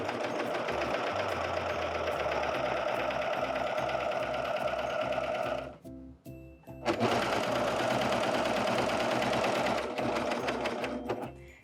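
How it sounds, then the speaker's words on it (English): A Husqvarna Viking Amber Air S600 serger sews a cover stitch, its fast, steady mechanical chatter running loudly up close, pausing briefly in the middle before resuming at full speed. "let's test out our cover stitch"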